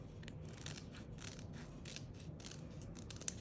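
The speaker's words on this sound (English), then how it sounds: "My scissors are so squeaky right now." Squeaky scissors cutting paper at a desk, giving a steady, close rasping texture with repeated snips and faint squeaks throughout, no talking.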